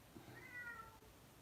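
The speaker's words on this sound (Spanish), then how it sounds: "¿Se escucha el maullido del gato?" A house cat meows once during a home manicure session, a single soft, drawn-out call heard faintly against quiet room tone.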